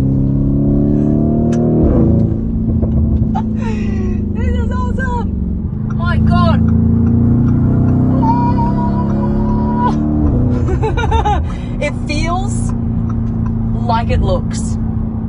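Lamborghini Urus Mansory with a 4-liter twin-turbo V8 revving and downshifting. Its loud engine note rises and falls throughout, with a voice talking over it.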